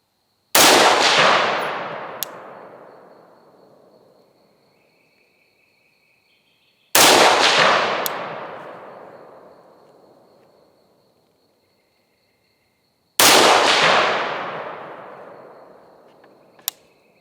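Three loud rifle shots fired on an outdoor range from a rifle fitted with a night vision scope, each a sharp crack followed by a long rumbling echo that fades over several seconds before the next shot.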